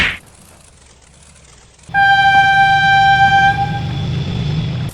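A loud, sustained train horn blasts close by after a quiet start, holding one steady multi-tone note for about two seconds before fading into rumbling noise.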